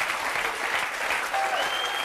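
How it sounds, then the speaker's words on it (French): Studio audience applauding on a French television talk-show set, a steady, dense wash of clapping that holds at an even level for the whole stretch with no voices over it. "je crois qu'on peut l'applaudir."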